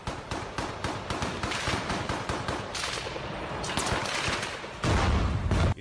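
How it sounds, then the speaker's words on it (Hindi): Russian soldiers fire guns from cover behind a building during the Mariupol battle, sending dense rapid bursts of automatic gunfire that overlap and continue without letup, loud and close. "कुछ रूसी सैनिक एक इमारत की ओट लेकर यूक्रेन के सैनिकों पर ताबड़तोड़ गोलियां चलाते नजर आए"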